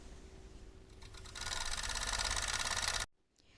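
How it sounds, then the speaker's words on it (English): A serger overlocks the side seams of a pair of pants in one continuous fast whirring run that speeds up partway, then stops abruptly, leaving near silence. "And now we can serge the sides."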